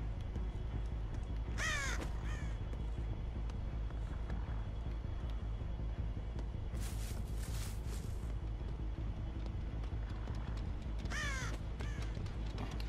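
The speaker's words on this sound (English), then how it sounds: "Oh, come on, crows. Give me some help. You're just calling all over the place." Crows caw in the game Dead by Daylight, three separate bursts of harsh calls over a steady low ambient drone, fairly loud and close.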